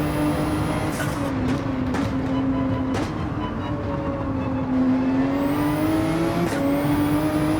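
A race car in Gran Turismo 7 drives steadily with a loud, continuous engine whine whose pitch dips and rises as it brakes and accelerates through corners.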